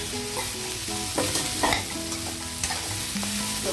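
Cauliflower drops into a pan of sizzling ginger garlic paste, giving a loud, continuous frying hiss broken by clattering stirs and scrapes of a utensil, with no speech.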